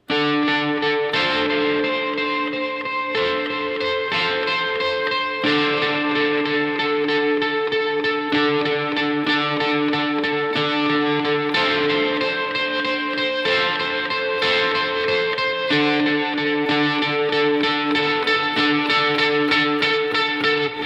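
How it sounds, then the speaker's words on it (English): A heavily distorted electric guitar riff, octave droning, plays continuously, loud and thick, with chugging repeated chords and brief pauses between phrases. "jump over to your full distortion, out of your clean tone, and into your octave droning riff"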